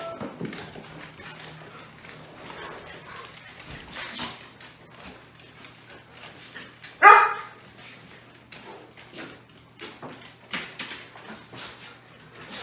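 Dogs wait excitedly before a walk, with one loud, sharp bark standing out amid quieter whimpers, yips and shuffling in a room.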